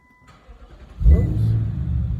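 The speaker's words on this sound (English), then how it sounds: "I'm gonna shut the engine off here." An Infiniti M56 with the VK56 engine, a brief quiet lull followed by a sudden mechanical thump and a sustained low engine drone nearby.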